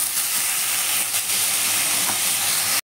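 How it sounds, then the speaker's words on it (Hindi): Tomatoes go into onions frying in a pan for dhaba-style palak dal tadka, making a loud, continuous, close hissing sizzle with a few light stirring scrapes before it cuts off abruptly near the end, with no talking. "ये हमारा प्याज भी अच्छी तरह से फ्राई हो गया, पक गया मतलब। अब इसमें हम टमाटर डालेंगे।"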